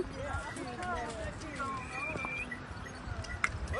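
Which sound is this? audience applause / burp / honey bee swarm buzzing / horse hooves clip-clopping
horse hooves clip-clopping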